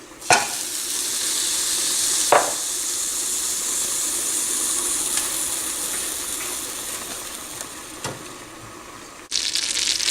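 Two tablespoons of butter sizzle steadily in a pan with cranberries for Persian rice with chicken, a broad continuous frying hiss with a few sharp spatters and stirring clicks, close and loud, with no talking.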